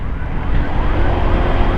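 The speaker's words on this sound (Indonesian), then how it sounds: "Kita mau lihat ini sirine untuk ambulan ini nggak begitu keras gitu ya." A loud ambulance siren wails continuously, with a rising and falling tone over heavy street traffic rumble.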